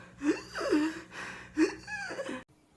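A voice imitates labored, wheezing breathing from COVID illness: several raspy gasping inhales and exhales, close and fairly loud, ending abruptly.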